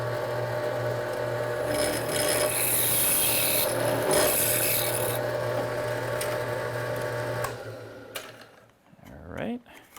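A drill bores into aluminum with a steady, close grinding whir that runs for several seconds before winding down, followed by faint handling noises.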